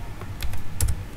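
A computer keyboard is typed on with a few quick, light key clicks, close and fairly clear, with small gaps between the strokes and no one talking.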